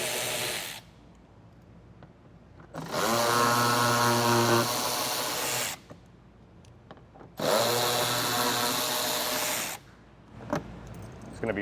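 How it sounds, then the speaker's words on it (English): A power tool fitted with an 8mm socket spins out screws inside a Jeep Grand Cherokee wheel well, making two separate whirring bursts of about three seconds each, with quiet handling noises in the gaps. "I got an 8mm socket and I'm going to remove some of these screws."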